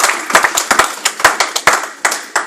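A church congregation gives a burst of acclamation clapping, sharp close hand claps in a quick, somewhat uneven rhythm, standing alone without talk.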